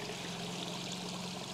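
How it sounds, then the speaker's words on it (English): Water from two cascades splashes and trickles steadily into a garden pond, a soft continuous rush of falling water nearby with no other sounds. "listening to the sounds of the water now. It sounds lovely with these two cascades running."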